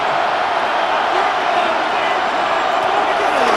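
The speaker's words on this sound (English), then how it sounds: "This crowd into it now as we get to 3rd down" A continuous, even wash of stadium crowd noise from Madden NFL 26 holds loud throughout as fans get into a third-down play between the Ravens and Browns, with a commentator talking over it.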